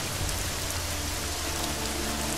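Steady rain from the video game Deus Ex: Mankind Divided, a dense, even hiss of drops on surfaces, continuous and alone with no voices over it.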